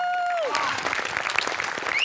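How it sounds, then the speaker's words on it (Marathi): A studio audience at a Marathi comedy sketch show bursts into loud, dense applause as a musical tone fades, clapping continuing steadily to the end. "म्युझिकसाठी जोरदार टाळ्या व्हायला पाहिजे"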